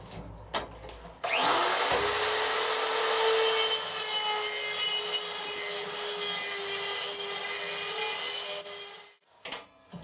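A die grinder fitted with a carbide burr spins up and grinds continuously for about eight seconds, a loud high-pitched whine with rasping cutting noise, close and alone, then winds down.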